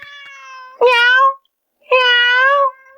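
Two clear, close cat meows, the second longer, rising and falling, with faint background voices at the start and end.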